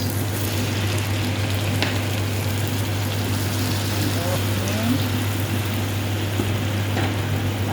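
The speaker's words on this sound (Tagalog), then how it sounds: "Sunod natin ang sibuyas. Haluin. Ilagay natin ang soy sauce." Onions and soy sauce sizzle steadily in a pan while being stirred, a close continuous frying hiss with faint clinks of the utensil and no talking.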